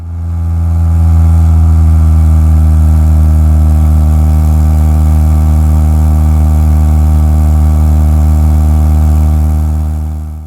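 A one-owner 1969 Triumph Spitfire's small four-cylinder engine runs loud and close, a steady, rich mid-pitched drone held evenly for about ten seconds, fading in and out at the edges, with no voices.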